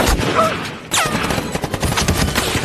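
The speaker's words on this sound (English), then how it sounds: "a barrage of Japanese machine guns suddenly attacked them massively" Machine gun fire in a war dramatization of Japanese troops attacking American soldiers, loud rapid bursts of shots with a sharp whistling streak and scattered cracks continuing throughout.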